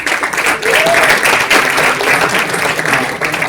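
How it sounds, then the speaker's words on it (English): Audience at a college inauguration ceremony giving a loud round of applause, continuous dense clapping close and full throughout, without a break. "huge round of applause to them"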